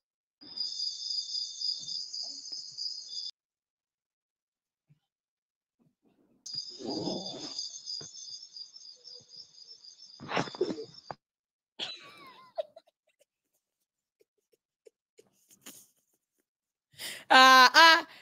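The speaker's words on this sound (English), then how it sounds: "Nathan, the crickets are crying and they are talking for you." Cricket chirping used as a sound effect on a dating show, coming in loud, regular bursts separated by silences, with faint breaths and other short sounds in the gaps.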